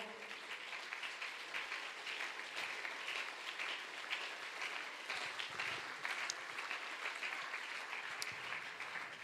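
Sustained applause from a church congregation at a Spanish-language service, a dense, even roar of many hands clapping continuously, heard at moderate distance without talk over it.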